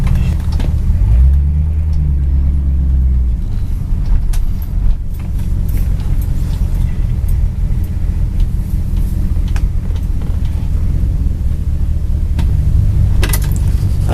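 An all-original 1964 Ford Galaxie's engine runs steadily with a deep, smooth rumble heard close and loud, its low tone shifting slightly early on and settling into an even idle.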